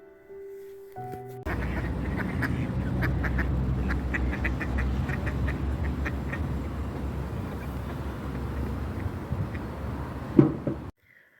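Swimming ducks quack in repeated short bursts, close and fairly loud, over a steady watery background murmur.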